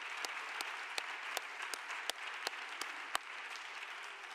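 Audience at a round-table discussion applauds quietly, a soft even bed of distant clapping with a few sharper individual claps popping out at a steady pace throughout.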